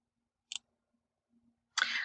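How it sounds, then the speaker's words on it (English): Computer mouse clicked while opening a web browser, a short crisp click heard close in a quiet room, followed after a pause by a louder burst of noise. "First, I'll open up an internet browser by double-clicking."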